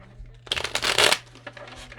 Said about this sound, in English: I'm going to shuffle a couple of times.